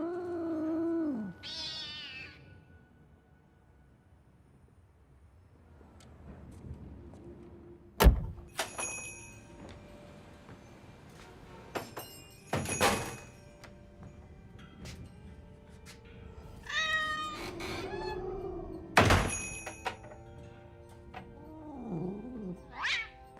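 Cats meow and yowl in a scene from the film Nine Lives. Several cries are scattered through the clip, set against quieter room sounds, a few sharp knocks and a door, with no talking.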